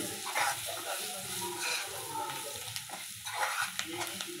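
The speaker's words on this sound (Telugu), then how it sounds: "కొంచెం కొత్తిమీర వేసుకొని ఫ్రై చేసుకోండి" Liver pieces frying with chopped coriander in a pan, a steady close sizzle with scraping stir strokes running throughout.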